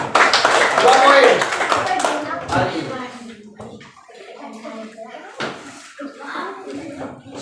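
Schoolchildren in a classroom clap briefly for a group of classmates, a burst of close, uneven hand claps that fades after a couple of seconds into a teacher talking.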